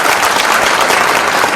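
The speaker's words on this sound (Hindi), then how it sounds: "जोरदार ताली बजाओ भाई" An audience at a youth dialogue event breaks into loud applause, a short burst of dense, close clapping.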